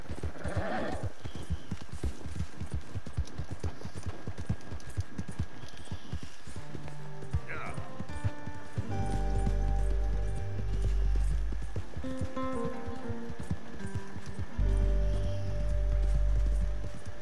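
Hooves clip-clop in a steady trotting rhythm over hard ground in Red Dead Redemption 2, mixed with game music and low rumbling effects, with a brief whinny partway through.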